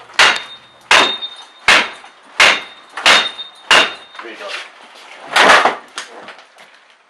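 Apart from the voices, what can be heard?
JTC Claw prying tool removing a door lock cylinder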